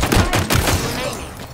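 Rapid bursts of gunfire from Halo Infinite during a capture-the-flag match, loud and close, with several sharp shot clusters over a short span.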